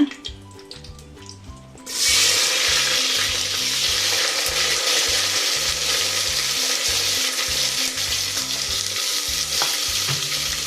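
Onions frying in oil in a pan, a loud steady sizzle that swells in after a quiet start and carries on evenly with faint stirring clicks underneath.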